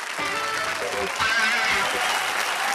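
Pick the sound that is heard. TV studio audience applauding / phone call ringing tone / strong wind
TV studio audience applauding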